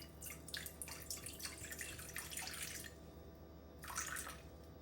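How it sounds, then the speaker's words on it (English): Water poured into a bowl for einkorn sourdough bagel dough, a steady splashing trickle with a few brief pauses, close and fairly quiet, no talking. "So we're gonna start off with just doing 177 grams of water."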